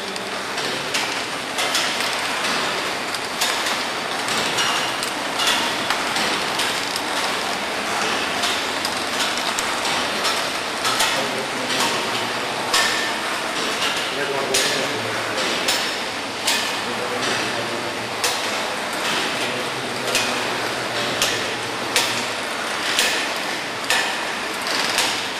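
A Poultry Tech Maestro evisceration line runs with loud, continuous metallic clatter and rapid rhythmic clanks, a busy mechanical din throughout.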